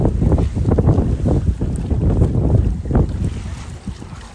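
A boat cruising on Kokshetau lake in the Burabay area carries constant loud wind buffeting and rushing, splashing water throughout, with no voices.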